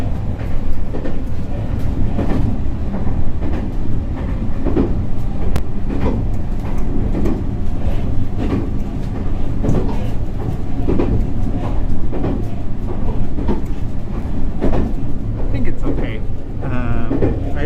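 The Resort Shirakami scenic train in Japan rolling along its rails, a steady loud rumble with rhythmic clicks of wheels over track joints, heard from a front-car seat, with a person talking over it.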